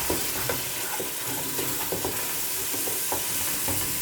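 Ground spices stirred and fried over low heat in a pan for a tinda dish, a dense constant sizzle with soft repeated scraping strokes of a spoon throughout.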